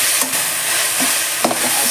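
Spices tempering in hot oil in a pan, a loud steady close sizzle with a few brief stirring scrapes, no voices.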